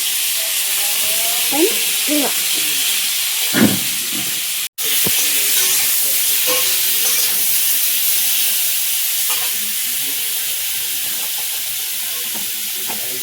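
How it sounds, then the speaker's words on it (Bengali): Dry red chilies tempered in hot oil, then star fruit added, produce a steady loud sizzle with occasional stirring clinks and spatters, close and continuous throughout. "শুকনো লঙ্কা ফোড়ন তেলে দিয়ে কামরাঙাটা দিয়ে দেবো"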